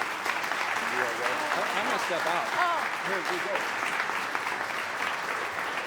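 A crowd at an awards gala keeps up sustained, even applause for an honoree while voices talk over the clapping.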